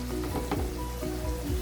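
Potatoes dropped into a sizzling pan while cooking chicken afritada, producing a close, continuous crackling fry with bubbling and a few soft thuds.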